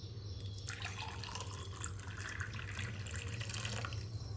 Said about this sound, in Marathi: आज झाडांना आपण पाणी घालूया